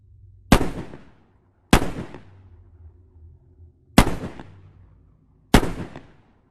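Four loud, sharp gunshots with ringing tails fire at uneven intervals from the bleak ending of The Mist, as a man uses the last few bullets to kill his son and the other survivors; a low rumble lingers between shots.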